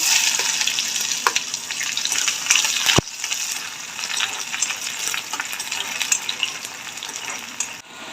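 Loud, steady crackling sizzle of onion frying in hot oil after mustard seeds, with occasional stirring clatter and a sharp knock partway through.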